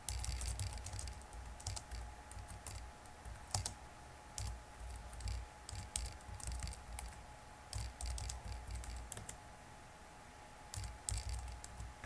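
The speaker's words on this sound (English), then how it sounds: "it will prompt me for my passphrase, which I will type in" Keys on a computer keyboard are typed in quick, close bursts of clicks with short pauses between them, with nothing else heard.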